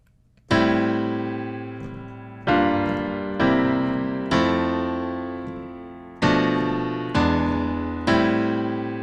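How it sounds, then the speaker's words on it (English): A hip-hop jazz chord progression of sustained chords, each struck and left ringing to decay before the next, rich and full with a slow, unhurried pace; no voices. "So let me play the progression for you with that little bit of sauce added to it."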